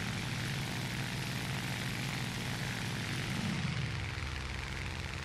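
The engine of a Ki-43 II fighter plane in War Thunder drones steadily, a loud continuous propeller roar that holds at an even level throughout.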